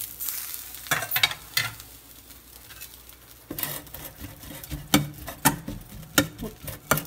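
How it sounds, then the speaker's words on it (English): Grease being strained off cooked ground meat at a kitchen sink, with soft patter and sizzling trickles, scraping and clatter bursts, fairly quiet and close. "So we're going to strain off the grease off of that."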